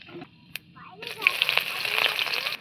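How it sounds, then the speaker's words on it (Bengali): Onion and panch phoron (five-spice seeds) sizzling in hot oil in a pan, a bright crackling fry starting abruptly after a brief clink and continuing steadily, with faint voices under it. "পরিমাণ মতো তেল দিয়ে দিচ্ছে বেশ পরিমাণ পাঁচ ফোড়ন আর দিয়ে দেবে পেঁয়াজ কুচি"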